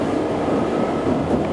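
A Paris Metro line 3bis train running near Porte des Lilas, a steady close rumble of wheels and motors on rails, with no talking.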